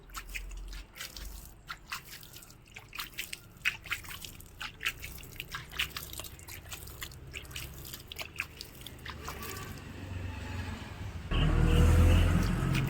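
Water poured over newly sown bean seeds in terrace garden pots gives faint trickling and dripping with soft splashes, closing in a louder rushing pour.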